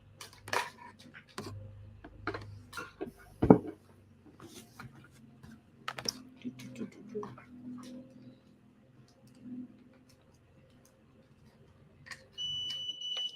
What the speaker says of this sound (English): you just heard it beep on